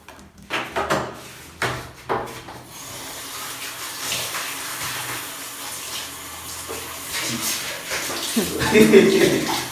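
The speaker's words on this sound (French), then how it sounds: "je vais commencer par me rincer avec l'eau froide d'abord, avant de renverser ça sur moi" Cold water from a shower rinsing over a person, a loud splashing rush with a few knocks and bumps early on, with someone speaking over the running water.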